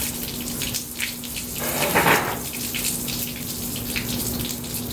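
Water trickling and splashing out of a leaking homemade smoker, a continuous close watery hiss with a brief louder gush partway through, no voices.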